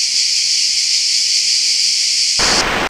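Cicadas singing in Provence in summer: a loud, dense, continuous high buzzing drone, close and unbroken, that stops abruptly near the end.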